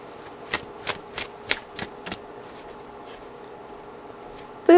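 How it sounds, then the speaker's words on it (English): Oracle cards are shuffled by hand in a run of six or seven quick, close riffling bursts, evenly spaced, in an otherwise quiet room. "I might pull an oracle card before we have to depart"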